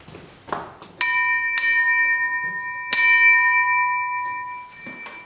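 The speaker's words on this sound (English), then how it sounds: "his transcription work is quickly interrupted by the call of the dinner bell." A dinner bell rings in a few clear, resonant metallic strikes, each tone hanging and fading slowly, heard fairly close in a quiet setting with faint background noise.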